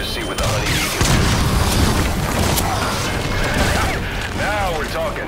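The Honeybee rocket launcher fires in Metal Gear Solid V, giving a loud boom followed by rumbling blasts and mechanical clatter, with a voice talking through part of it.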